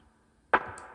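A single muffled lo-fi drum hit, low pass filtered and washed in reverb, striking once and leaving a soft lingering tail.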